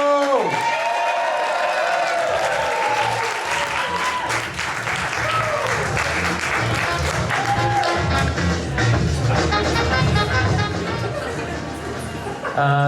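A comedy club crowd at the Birdcage in Bristol claps and cheers loudly and steadily to welcome a comedian to the stage, with music playing underneath the dense, continuous applause.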